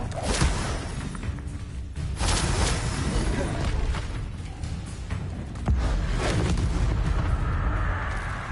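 The Confringo blasting spell in Hogwarts Legacy sets off loud booming explosions with whooshes, layered with dense game effects and a voice calling out spells.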